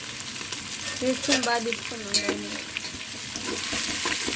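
Spices and ginger-garlic paste sizzle and fry in a pan while being stirred, with a steady hiss broken by scraping stir strokes and a faint clink, close and alone.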